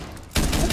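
Gunfire in the Rainbow Six Siege video game: after a near-silent stretch, a loud, dense burst of shots erupts halfway through and keeps hammering to the end.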